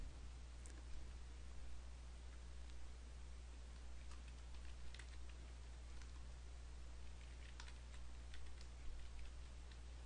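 Soft, irregular keyboard clicks tap away over a constant low electrical hum, faint and unhurried, with no voices.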